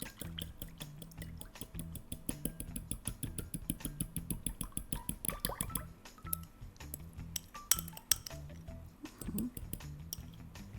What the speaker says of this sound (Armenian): Ավելացնում եմ խտացրած կաթը, մի կողմից խառնում եմ։